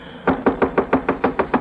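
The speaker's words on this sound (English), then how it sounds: "I knocked again, a little louder." Louder, firmer knocking on a hotel room door in a radio drama, eight sharp evenly spaced raps close up with no voices.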